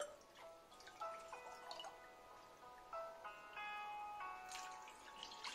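Water is poured from a glass into a pot while making a rosemary oil, producing a quiet, close trickle whose ringing tone climbs in pitch as the vessel fills, with splashy gurgles near the end.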